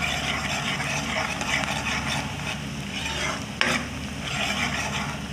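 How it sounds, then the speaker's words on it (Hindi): Black peppercorns and cumin fry with pinkish onions in hot oil, a steady close sizzle throughout with a brief sharp clink of a utensil partway. "10 से 12 काली मिर्चें डाल दी मैंने और डालूँगी हाफ टी स्पून ज़ीरा"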